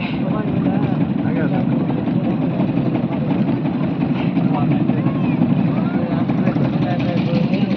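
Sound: motor boat engine

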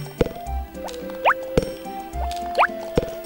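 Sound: watering crops with a watering can in the video game Harvest Moon

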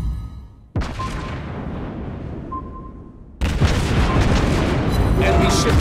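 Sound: torpedo explosions destroying an enemy ship in a video game

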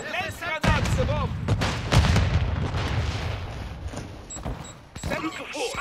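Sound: grenade explosion in video game Modern Warfare II

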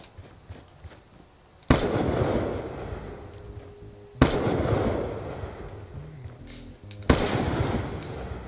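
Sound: gunfire in Call of Duty Nuketown video game

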